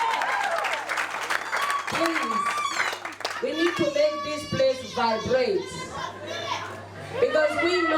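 Clapping from wedding guests in a church mixes with children's voices and chatter, the applause patchy and uneven rather than a solid roar, with talk rising over it in the second half.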